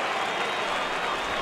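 Stadium crowd of over 39,000 applauding and cheering in the MLB 14 The Show baseball video game, a steady, dense roar of clapping that fills the whole moment without a break.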